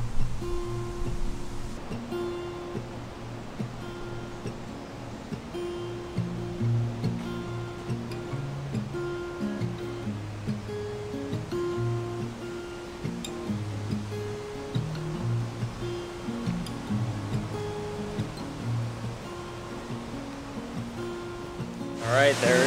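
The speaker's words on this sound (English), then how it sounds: "there it is, people. Brandywine Falls." Brandywine Falls, a waterfall in Ohio, gives a steady, continuous rushing roar throughout, with music playing over the falling water.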